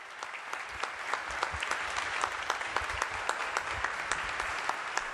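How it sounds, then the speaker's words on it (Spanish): Applause from those gathered after the Pope's homily at a prayer meeting with pastoral leaders, a moderate crowd clapping steadily, with individual claps distinct at close range, continuous throughout. "Inmediatamente el aplauso de todos los presentes a la homilía que el Papa León ha pronunciado"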